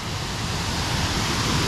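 Steady broadband rush of the Cachoeira da Anta waterfall in Presidente Figueiredo, a loud continuous roar of falling water heard up close without a break, no voices.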